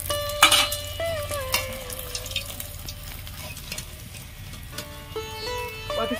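Battered amudi fish fry in hot oil with a steady sizzle and crackle, close and fairly loud, with a few sharper spatters and clinks of utensils against the pan.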